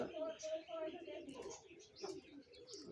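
Pigeons coo softly inside a coop where birds sit on eggs and chicks, with repeated low throaty coos and a few chirps, faint and close.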